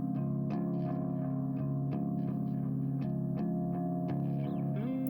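A song plays plucky, clean electric guitar: a sustained chorus-tinged chord rings under a steady run of picked notes, with a faint string slide near the end, and nobody talks.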